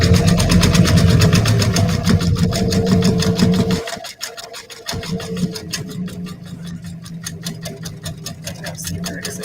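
A sewing machine runs steadily with a rapid, even mechanical stitching rhythm, close and fairly loud, stopping briefly for about a second before starting up again.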